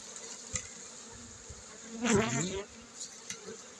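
Honey bees at a beehive treated with nettle against mites, a soft hum swelling into one brief, closer buzzing burst midway before fading back to a faint drone, no voices.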